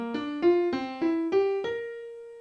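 A piano runs up the notes of a C dominant 7th chord, six clear notes climbing one after another and ending on a sustained top note, played alone.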